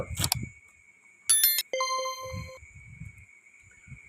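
A short synthetic notification bell rings once, bright and ringing with a fast chime before a sustained tone, close and clear, with brief talk fragments before and after.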